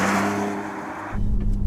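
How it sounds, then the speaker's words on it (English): A BMW M2 Competition revs its engine in a loud, close, throaty burst that swells and then shifts into a rougher, deeper roar, with no exhaust note coming through. "In this, you can only hear engine."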